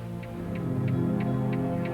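A clock ticks in a slow, even rhythm of about five ticks, faint against a steady low hum of background music.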